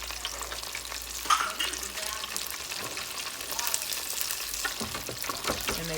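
Food deep frying in oil until brown and crispy, a dense close bubbling crackle that holds steady throughout with faint clatter and a few soft background voices.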